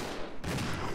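Dense burst of gunfire from Resident Evil Zero, loud and continuous across a single second, with no voices.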